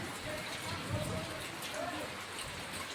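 Steady rain falls over a village during a storm after lightning struck and burned out a power pole, leaving the power cut; a faint, even hiss continues without a break.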